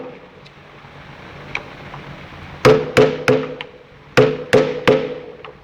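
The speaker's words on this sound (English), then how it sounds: "Using the mallet and the flat screwdriver only." A bearing pin being tapped out with a mallet and a flat screwdriver, starting with faint ticks and then sharp metallic knocks in two clusters of three to four blows each, loud and close over a quiet background.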